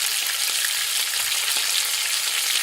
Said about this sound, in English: Place the hamburger patties on a frying pan coated with oil.